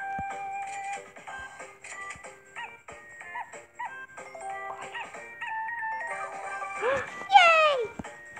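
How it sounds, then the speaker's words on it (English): Cartoonish chihuahua dog sounds and chiming tones from the Merge Dogs mobile game, a string of short bright electronic notes capped by a louder rising squeal near the end, with a person talking over it. "He's a chihuahua. He's a cute little chihuahua."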